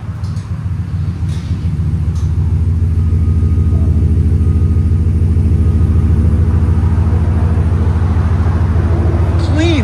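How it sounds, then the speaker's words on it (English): A car engine idles through a Flowmaster Signature Series exhaust at a steady, deep rumble, a continuous low throb close by that grows slightly fuller in the first seconds, then holds even. "Flowmaster Signature Series. Let it idle."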